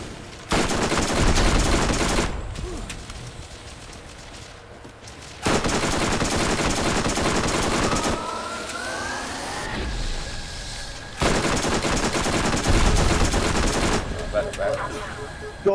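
Loud video-game gunfire from Borderlands comes in long sustained automatic bursts, broken by brief lulls with lighter shots and a rising whine, close and dominant throughout.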